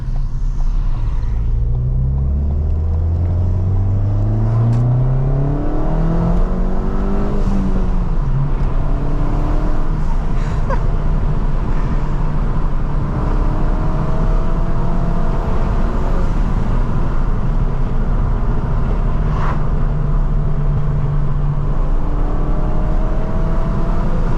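Ford Fiesta ST200 with a Revo Stage 2 engine tune accelerating from inside the cabin with the window down, a loud continuous engine drone rising through several gears with a deep exhaust rumble throughout.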